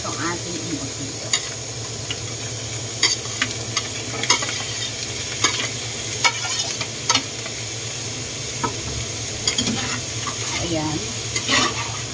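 Homemade embutido frying in a pan, a steady close sizzle with occasional stirring clicks and scrapes, while a voice speaks briefly.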